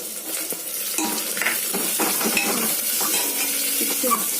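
Garlic frying in a pan until golden for a quick chicken curry, a steady close sizzle with stirring scrapes and light clinks of a utensil against the pan, no voices.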